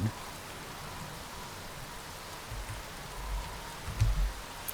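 Steady rain in the video game The Berlin Apartment, a soft continuous hiss with a few low dull thumps near the end, and no talking.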